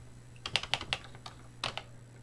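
Keys clack on a Tandy Color Computer 3 keyboard: a quick burst of about six crisp close keystrokes, a short pause, then two more presses.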